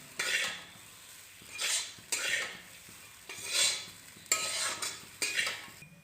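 Egg chow mein with Maggi masala being tossed and stirred in a pan, about six rhythmic scraping swishes of a utensil against metal, each a short burst over a faint sizzle, with no talking.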